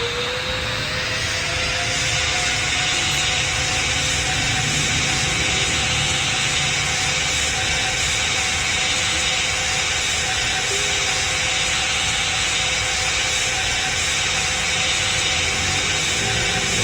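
Boeing 777 jet engines roar steadily through a vertical takeoff in the PTFS flight game, a loud, continuous broadband whine with a sustained high tone and no talking.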